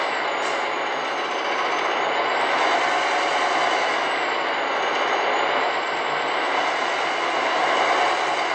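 A truck engine drones steadily while driving in Euro Truck Simulator 2, a continuous even rumble with a faint whine shifting in pitch, no talking.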